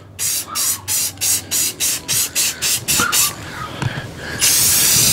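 Spray paint applied in coats to a truck part: about nine short, loud hissing bursts in a steady rhythm close by, then a longer continuous spray at the end, with no speech.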